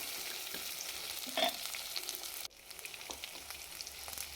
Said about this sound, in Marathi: परत झाकण काढून याला व्यवस्थित हलवून घ्यायचं